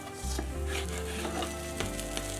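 A cornmeal pancake topped with black sesame is flipped in a pan, with a soft scrape and a quiet, steady sizzle of frying, faint and close with no voices.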